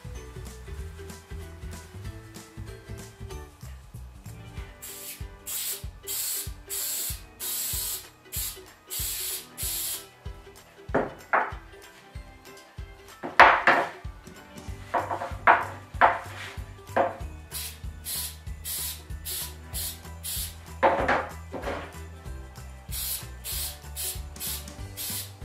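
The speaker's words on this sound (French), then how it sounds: "il faut bien agiter l'aérosol." Aerosol can of neoprene contact glue being shaken and sprayed: bursts of rattling agitation alternate with several hissing spray blasts of about a second each, close and clear, with no talk.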